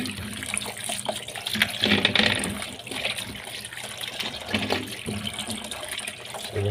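Water runs from a tap while cameras are being washed, a steady close splashing and trickling stream with varying intensity and no talk over it.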